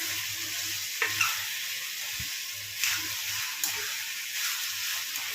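Drumsticks and native tomatoes sizzle steadily in a pan, a close, moderate hiss broken by several spoon scrapes and clinks as the curry is stirred.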